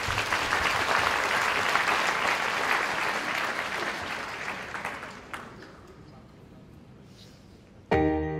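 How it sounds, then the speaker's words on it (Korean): Audience applause at a Korean community association inauguration ceremony, a full, sustained wave of clapping that gradually thins and fades out before a musical tone begins. "다시 한번 큰 박수 부탁드립니다."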